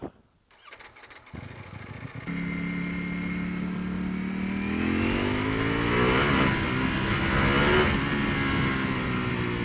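A 2018 Ducati V4S motorcycle in race mode starts quietly, then its engine catches and revs up into a loud, rising acceleration whine that climbs through gears and stays close and strong, with no talking.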